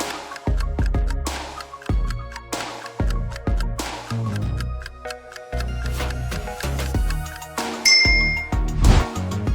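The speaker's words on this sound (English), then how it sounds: "What kind of magical bell would you ring?" Bright magical bell chimes and dings ring out in quick succession over layered tinkling tones, loud and continuous without any speech.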